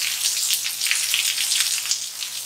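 Heavy rain from Hurricane Isaias near Miami patters and hisses steadily on nearby surfaces in a dense, continuous wash, with no voices.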